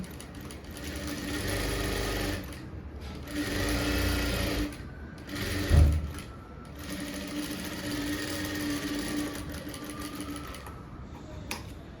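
A sewing machine runs in steady bursts while stitching the front panel of a blouse, its motor whirring loud and close with brief pauses between runs and a single thump near the middle.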